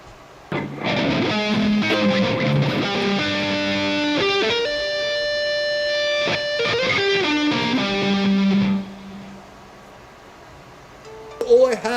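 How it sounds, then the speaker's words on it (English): Distorted electric guitar plays fast shred-style sweep arpeggios, a steady stream of bright, sustained notes for about eight seconds, then falls quiet before a brief return of sound at the very end. "When I play a sweep arpeggio"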